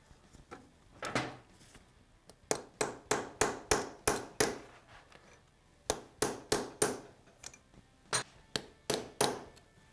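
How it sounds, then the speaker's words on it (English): Someone hammers a bent lock tab on the sprocket nut of a KTM 690 or Husqvarna 701 motorcycle engine, producing close metallic strikes in quick rhythmic bursts of several blows with short pauses between them. "So we need to bend that tab straight so we can remove it."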